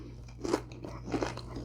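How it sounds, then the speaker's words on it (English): Two crisp, close crunches as someone bites into a fried onion bhaji fritter, followed by soft chewing. "Do you hear the crunch?"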